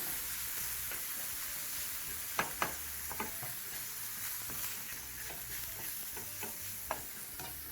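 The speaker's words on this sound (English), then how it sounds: "Proceed to toss everything in your pan together, making of course sure to break down any chunks of your mince as you continue to fry through" Minced meat with cumin powder, taco seasoning and dried thyme frying in a pan, a quiet constant sizzle broken by scattered scraping taps and clinks of stirring, no talk.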